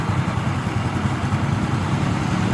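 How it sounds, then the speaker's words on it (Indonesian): A Yamaha Xeon motorcycle engine, just back from an ignition repair, idles steadily and close by with a low, even rumble that holds through the whole stretch without any talk. "motor sudah bunyi"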